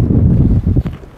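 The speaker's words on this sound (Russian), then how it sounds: "ветер усиливается" Strong wind gusting across an open outdoor treasure-hunting site, a dense low rumble of microphone buffeting that swells and dips, easing briefly near the end before picking up again.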